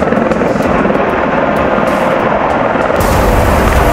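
A loud helicopter close by, its rotor chopping in a fast, continuous thud over heavy engine roar, growing even louder toward the end.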